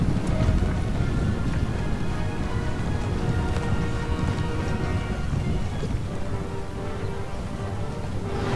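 Hooves of a running horse in the video game Empire: Total War, a steady rumbling patter of clip-clop beats under continuous rain-like battlefield noise, moderately loud and sustained throughout.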